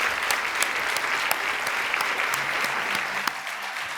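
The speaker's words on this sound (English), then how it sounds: "if we can offer one last round of applause as they make their way toward the front of the stage" Steady, dense applause from an audience at an alumni excellence awards ceremony in 2022, a continuous near wash of many clapping hands with a few sharper individual claps standing out, lasting the whole stretch.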